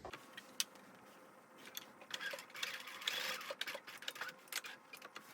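Domestic sewing machine back stitching the corners of a pair of pants, a quiet, continuous mechanical whir with rapid needle ticks that swell and ease in short bursts, heard alone without talk.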